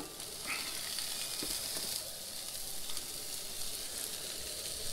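A tuna collar fries gently over low heat in an oiled pan at a backyard camp. It gives a faint, steady sizzling hiss with no talk over it.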